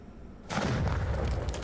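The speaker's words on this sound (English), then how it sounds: "so obviously we're going to explode it." A sudden loud blast erupts midway in the video game Animal Well, a burst of broad booming noise that rolls on with rumbling decay.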